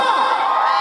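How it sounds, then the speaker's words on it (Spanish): A crowd at a live Christian church concert in Chichicastenango shouts and cheers for joy, a loud, dense burst of voices filling the whole short moment. "¡Un grito de júbilo!"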